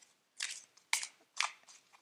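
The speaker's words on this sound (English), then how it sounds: "I'll just shuffle a bit more here" Crystal Vision Oracle cards shuffled by hand, three short crisp riffling bursts close up, with quiet gaps between them.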